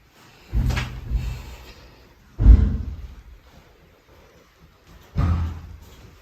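Three separate heavy thuds of a door being pushed, each a dull low bang followed by a short rattling decay, spaced a couple of seconds apart in a quiet room with no talk.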